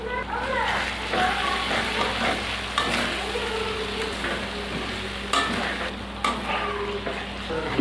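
Ground spice paste and chili powder frying in a pan for a meat dish, a dense continuous sizzle with regular stirring strokes and a few louder scrapes, a voice faintly present in the background.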